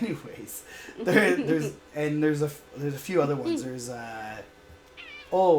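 A pet cat named Sassy yowls loudly and insistently right into a podcast microphone, giving several drawn-out meows in a row very close, with a brief voice at the end.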